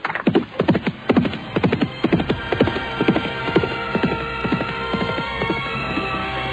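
Hoofbeats pound in a fast, rhythmic gallop along the edge of a steep cliff, loud and close at first, then fading slightly as they continue over a faint background hum.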